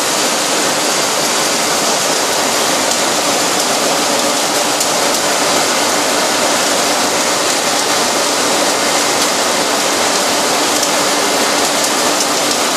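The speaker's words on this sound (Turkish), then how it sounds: "Gördüğünüz gibi suyu suyundan çektikleri için su devamlı tertemiz şekilde akıyor." Water pours steadily and loudly inside an olive oil factory, a dense unbroken rushing wash that stays even the whole time, with no voices.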